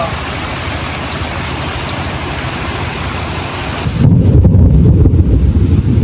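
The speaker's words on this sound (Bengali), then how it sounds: "বৃষ্টি আইছে, কলসিটা বইরা রাখি বৃষ্টির পানি দিয়া" Steady heavy rain hisses throughout, then grows louder and denser near the end as the downpour intensifies.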